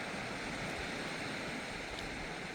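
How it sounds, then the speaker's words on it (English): Water flows along Jenny Creek with a steady, continuous rushing wash, moderately close and without pause for the whole short stretch, and no voices. "there is still some water flow"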